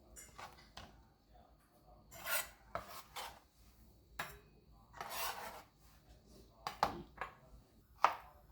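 A knife chops rattan shoots into inch-long pieces on a board, a series of scattered soft cuts and scrapes with a few sharper knocks, quiet and close.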